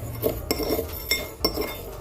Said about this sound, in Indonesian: selanjutnya kita masukkan kacangnya kita aduk-aduk